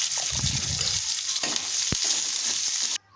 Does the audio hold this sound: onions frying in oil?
yes